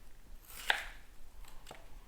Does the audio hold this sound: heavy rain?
no